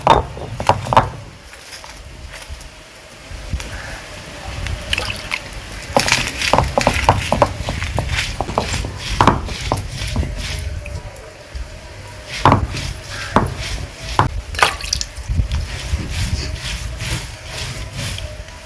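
Masala being ground by hand on a stone grinder in a village kitchen, with irregular knocking and scraping strokes, some sharp and loud, over a steady rough background.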